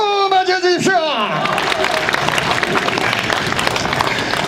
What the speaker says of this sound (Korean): 여러분 큰 박수 맞아주십시오.